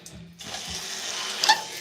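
Water sprays onto hair while it is being washed, a steady broad hiss that starts suddenly after a quiet moment and continues close and fairly loud.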